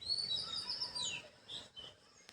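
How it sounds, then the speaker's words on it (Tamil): Small birds chirp and tweet in a home garden, a close burst of bright, rapid calls that thins out into a few scattered chirps, heard alone without talk. "ஒரு சைடு பார்த்தீங்கன்னா பறவைகள் கீச்சு மூச்சு கீச்சு மூச்சுன்னு கத்திக்கிட்டே இருக்குங்க"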